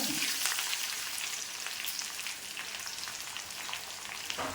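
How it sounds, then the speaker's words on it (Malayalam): Curry leaves sizzle and crackle steadily in hot oil for a Kerala chickpea curry, a close, continuous frying hiss with bright pops throughout and no talking. "കുറച്ച് കറിവേപ്പില ഇട്ട് കൊടുക്കുവാണ്"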